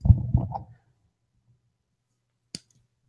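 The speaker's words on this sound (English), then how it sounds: "there's the crack. Broke the seal." After a low shuffling handling noise, a single short, sharp crack sounds in near silence, like a bottle seal snapping open.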